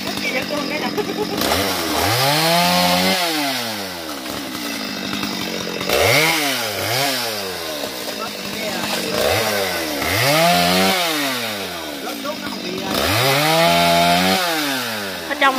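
A chainsaw cutting up a tree revs loudly in repeated surges, climbing and dropping between idle and full throttle several times, with voices faintly audible in the background.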